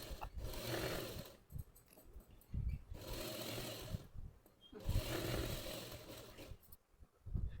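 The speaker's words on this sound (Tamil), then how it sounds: "கையோட மிஷின்ல உட்காந்து தைக்க ஆரம்பிச்சுட்டேன்" A sewing machine stitching a blouse at home runs in three long whirring bursts, separated by brief pauses with soft mechanical clicks, loud and close.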